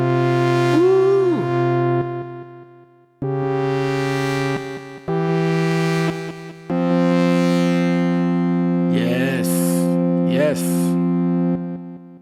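Behringer Proton mono synth set to a slow attack with sustain dialed in, playing several long held notes that swell in and ring steadily, some with pitch bends and gliding wobbles near the end, with no talk over them.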